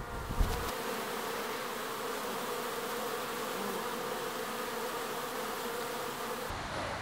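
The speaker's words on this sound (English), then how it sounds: "This is where all the bees live, and they fly around my garden, visiting all the flowers and making delicious honey for us." Bees buzz steadily around garden beehives among flowers, a close, continuous droning hum that holds at an even level throughout with no talk.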